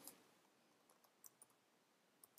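A computer mouse gives a few faint, sparse clicks on an OK button while working in Illustrator, with quiet gaps between the light ticks.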